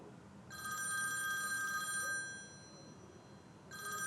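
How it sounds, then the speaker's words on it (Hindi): A telephone rings indoors in a shrill electronic burst of about a second and a half, pauses, then starts ringing again, loud and close with no talking over it. "फोन सुन लूं?"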